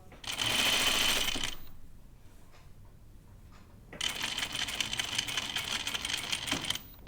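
A sewing machine stitches a seam on a caftan dress in two bursts, a short rapid run, a pause with faint handling sounds, then a longer steady run of close, fast mechanical chatter.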